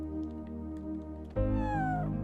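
A cat meows in the video game Chrono Cross: one clear, rising-then-falling meow that rises abruptly over a steady game music backdrop, close and fairly loud.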